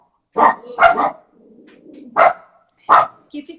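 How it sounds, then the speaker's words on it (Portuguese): Dogs barking nearby, a few loud sharp barks in quick bursts with short pauses between them, standing alone without talk. "Os cachorros."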